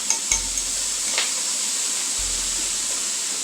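A ground beef mixture for a cheesy hamburger casserole being stirred in a bowl, with a few light clinks of the utensil at the start over a steady background hiss and two low thumps.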